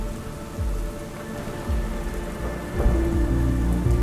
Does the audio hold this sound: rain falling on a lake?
yes